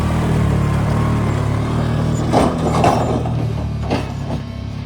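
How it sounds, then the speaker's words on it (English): A side-by-side UTV pulling snowmobiles on an open trailer at a snowmobile festival in Cooke City, Montana, gives a steady, droning engine hum close by, with a few faint rattles and knocks from the load. "Side-by-side with the trailer."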